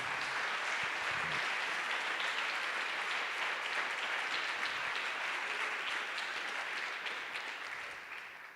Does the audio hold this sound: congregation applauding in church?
yes